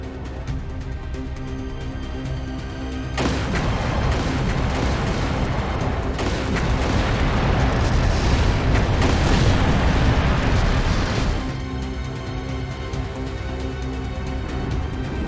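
Gunfire and explosions erupt in a city during the video game Trails through Daybreak II, a dense, loud roar of blasts and rumbling booms building over several seconds before easing back to a quieter background.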